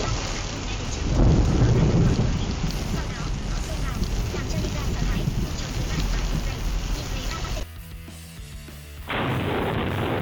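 Heavy thunder booms over pouring rain during a high-precipitation supercell storm, loud and close, with a big crack early on, then a sudden brief drop before the rain roar returns.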